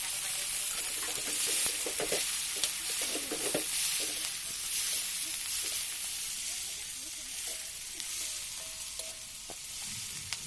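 Onions frying in a pan with a steady, bright sizzle and crackle, and a spoon stirring now and then with soft scrapes and taps in the first half.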